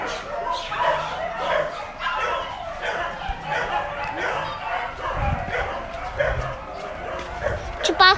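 Several dogs at the Pak Mie animal shelter in Alor Setar bark and yip over and over, some whimpering, in a noisy, echoing mix with people talking nearby.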